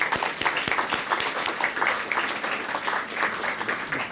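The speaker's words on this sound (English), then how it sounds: "So let's give a round of applause to our gift sponsors." A school audience gives moderate applause for gift sponsors, with individual claps standing out in a soft, steady patter that carries on without fading.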